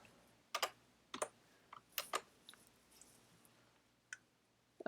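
Quiet keystrokes on a computer keyboard, a handful of separate clicks and short bursts spaced irregularly over a near-silent background.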